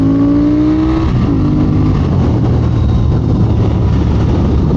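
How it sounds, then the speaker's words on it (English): Motorcycle engine, not a sport bike motor, pulling up through a gear change with a rising tone, then a constant loud drone under heavy wind rush while riding a mountain road. "It is an eager little motor."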